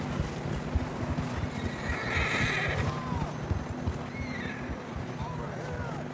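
Horses whinny and hooves clip-clop over a busy background of rumbling movement in the video game Red Dead Redemption 2, with voices speaking throughout.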